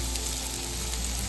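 Onions fry in leftover curry oil in a pan, giving a steady, dense, close sizzle that holds level without breaks.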